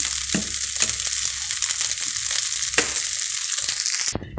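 Kimchi fried rice with sliced beef frying in a pan, sizzling steadily and loudly up close, with scraping and stirring clacks recurring throughout.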